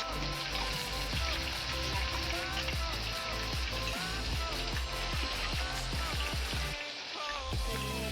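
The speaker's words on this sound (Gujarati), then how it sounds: "બધા કારેલાને તેલમાં આવી રીતના ફ્રાય કરવાના" Steady, close sizzling of bitter gourd frying in hot oil, dense crackles and pops running throughout with a brief dip near the end.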